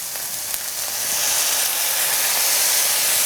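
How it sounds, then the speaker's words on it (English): Tempeh bacon strips fry in a pan as marinade is added, a loud, steady close sizzle that swells and hisses continuously with no speech. "So all you're doing is frying them up until they're nice and crispy"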